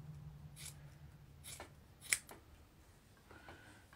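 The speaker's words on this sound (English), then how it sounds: "So I've got an old sweater here, arm of a sweater, and I am going to cut some rounds." Scissors snip through the knitted arm of an old sweater to cut rounds, giving a few quiet, separate cuts with one sharper clip near the middle, heard close with no talk.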